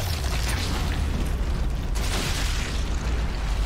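A distant explosion in the video game Sniper Elite 5, a broad rumbling boom with a dense low roar that fills the whole moment steadily, loud and without speech.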